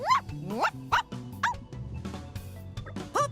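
Robot dog in dog mode in Xenoblade Chronicles 2, giving a string of loud, close yips and barks in an uneven rhythm with short pauses between them.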